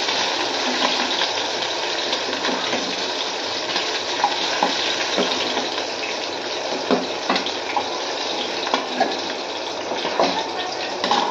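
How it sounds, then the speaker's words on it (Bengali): Two pieces of fish head fry in hot oil, a loud continuous close sizzle with scattered pops and the scrape of stirring, running alone without voices. "2টো মাথার টুকরো আছে, এগুলো ভাজবো।"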